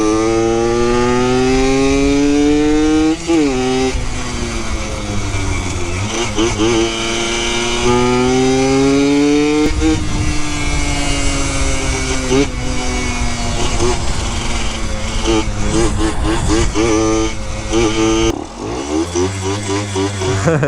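The engine of a rebuilt Yamaha YSR50 mini street bike with a stuck throttle screams at high, continuous revs, pitch sliding up and down in long sweeps, loud and close, with a voice talking over it.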